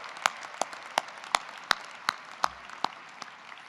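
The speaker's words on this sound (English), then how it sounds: "So give yourselves a huge round of applause." A graduating class applauds itself at a university commencement, a sparse run of distinct, fairly loud claps at an even rhythm over a quiet background.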